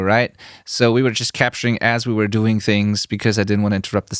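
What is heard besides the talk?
No everyday noises stand out.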